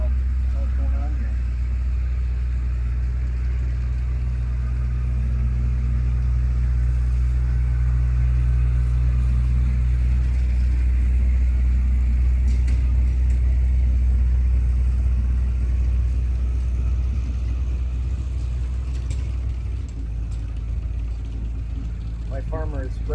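A tractor working a field spreading manure runs with a steady low engine rumble throughout, fairly loud and constant, heard from a moderate distance.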